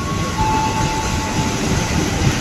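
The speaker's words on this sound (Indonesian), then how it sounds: "Itu kereta apa tuh? Kayaknya kereta itu deh, kereta barang deh." A freight train rumbles steadily through a station at close range, with a constant low roar and a thin metallic tone running through it, no voices.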